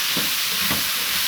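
Baguio beans with egg being sautéed in a pan, a steady loud hiss of frying with two soft stirring scrapes rising from the sizzle.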